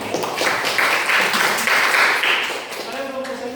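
A classroom audience applauds after a group presentation, giving a dense, steady burst of clapping from many hands that fades slightly at the end.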